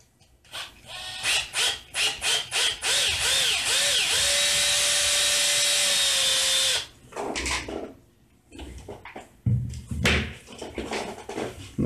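A power drill bores into a small wooden key chain at a pen-marked center point. Several short, close whirring bursts lead into a sustained run with a rising whine, followed by more brief stop-start bursts.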